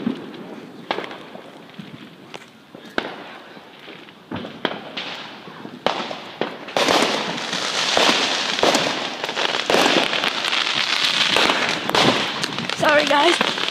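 Firecrackers go off in a rapid, irregular string of sharp cracks and pops, near and loud, with the bursts growing denser toward the end while people talk over them.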